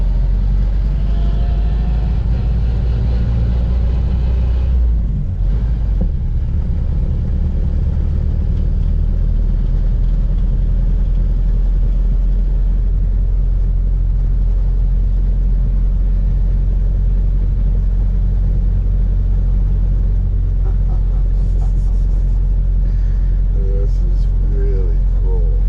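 A 1931 Ford Model A driving on the road, its engine a steady low rumble throughout, close and fairly loud, with brief bumps and voices in the background.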